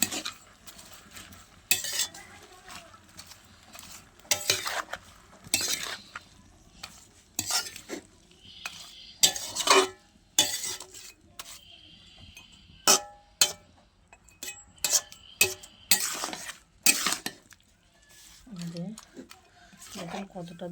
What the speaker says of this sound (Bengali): তো এই পর্যায়ে আমি লবণ, হলুদ এবং চিনি দিয়ে ভালো করে মিক্সড করে নেব।